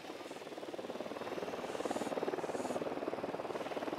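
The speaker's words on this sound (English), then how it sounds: "Drone is airborne." A drone flies in the video game Ghost Recon Wildlands, its rotors giving a steady, rapidly pulsing whir that holds throughout at moderate loudness, gently swelling midway.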